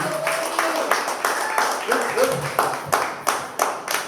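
Audience members clap for Markeisha Robinson, loose uneven claps in a series of separate bursts while people keep talking close to the microphone over them.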